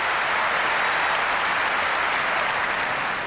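A large tennis crowd at the 1999 Wimbledon final applauds continuously, a dense even clatter of clapping that holds steady throughout without voices on top.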